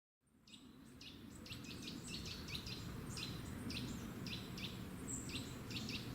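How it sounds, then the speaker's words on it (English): Birds chirping from a cat TV video played on a Roku TV, a quick run of small tweets and trills repeating over a steady low hiss, heard faintly through the room. "Cat TV birds."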